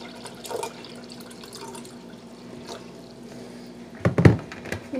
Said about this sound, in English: So I pour a little bit of juice